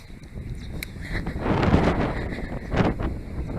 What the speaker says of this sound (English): It's really windy, so I'm hoping this recording is good.